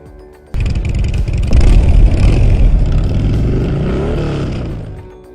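A Matchless 500cc motorcycle from the Moto Classic Museum in Sumaré fires up close by, jumps into a loud rev, then settles into a throbbing idle that fades slightly toward the end.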